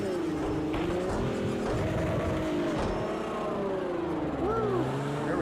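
Race car engine from the video game Project Cars 2, a steady droning whine that rises and falls in pitch through gear changes, continuous and loud throughout, with faint speech mixed in.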